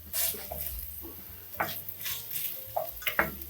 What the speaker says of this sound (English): we're going to add 2 tablespoons of butter and let this butter melt